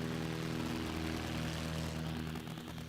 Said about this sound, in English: Let's listen and see if we can hear Jughead in the cockpit as he begins his takeoff roll